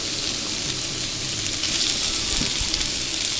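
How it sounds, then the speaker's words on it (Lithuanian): Tiger shrimps fry in hot oil with a loud, steady, close sizzle: a dense hiss with small pops that never lets up. "O, aliejus įkaito, galim dėti krevetes."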